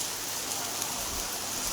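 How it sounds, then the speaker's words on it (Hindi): Rain falls steadily on a village home courtyard with a neem tree, an even close hiss of drops with no break. "बारिश हो रही सुबह से।"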